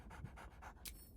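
The camp dog Scratch in Baldur's Gate III pants in a quick rhythm of about four short breathy puffs, close and soft, ending with a brief snort.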